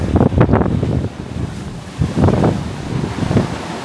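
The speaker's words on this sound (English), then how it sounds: "Day 9, choppy seas so far." Choppy sea on a cruise ship: wind buffets the microphone in loud rumbling gusts while waves wash and surge below, swelling and easing in uneven bursts, with no voices.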